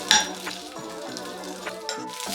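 Okra (bhindi) frying lightly in a pan for a Karnataka-style palya, with a soft steady sizzle and a few faint clinks of a utensil, close and quiet.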